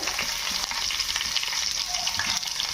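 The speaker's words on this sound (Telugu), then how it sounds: "ఇప్పుడు లైట్ కలర్ వేగే వరకు వేయించుకుందాం చిన్న ఉల్లి ముక్కలు పచ్చిమిర్చి ముక్కలు" Chopped small onions and green chilies frying in oil for a black-eyed pea guggillu dish, a close, constant crackling sizzle with a hissing, bubbly texture and no talking.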